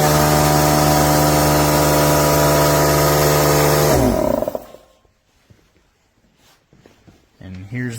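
An old Central Pneumatic 1.5 HP 6-gallon air compressor running loud with a harsh, steady motor drone, then shutting off and spinning down into near silence, followed by faint handling noises.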